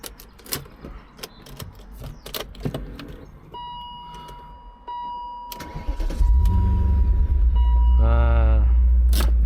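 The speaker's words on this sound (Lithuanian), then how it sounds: "Jūs tik paklausykit, koks yra garsas šio automobilio, kai tu jį užvedi." A BMW M5 E39 V8 cranks and catches after a few clicks and a warning chime, then settles into a loud, deep, steady idle, with a quick revving blip near the end.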